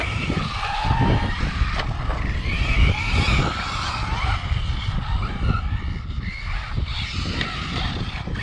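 An Arrma Typhon RC car motor whines and surges in bursts as the throttle goes on and off, with tires scrabbling and skidding on the surface, loud and close, and no one talking.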